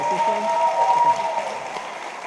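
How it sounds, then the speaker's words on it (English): An audience applauds after a college showcase presentation, a steady wash of clapping at moderate level with a speaking voice over it. "One more round of applause for Victoria."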